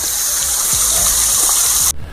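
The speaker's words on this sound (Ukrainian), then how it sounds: "падає вода сюди донизу і витікає смотрич" Water pours from a pool down a waterfall and splashes in a continuous bright rush, loud and near, cutting off abruptly near the end.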